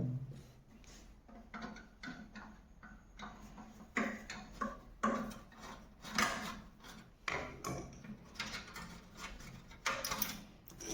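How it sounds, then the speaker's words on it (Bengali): Screws on a gas stove burner are unscrewed up close, giving an irregular run of small metallic clicks and ratcheting ticks with no voices. "বার্নারটা স্ক্রু খুলে বার্নারটা খুলে ফেলবো আমরা"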